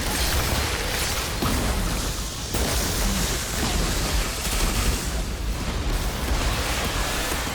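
Dense, continuous barrage of blasts and booms from cryo turrets firing nonstop in the video game Worldslayer, loud and steady throughout with no pauses.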